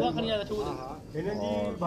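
Sialkoti pigeons coo in soft, repeated rolling calls close by, with someone talking over them much of the time.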